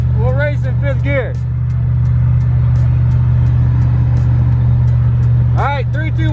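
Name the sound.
Chevrolet 5.3 V8 car accelerating in fifth gear roll race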